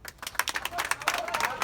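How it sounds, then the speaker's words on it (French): Applause from an audience at a political campaign team presentation in Senegal, a short burst of dense clapping that swells quickly and continues steadily throughout. "le professeur Arona Koumando Diouf, que je demande d'applaudir"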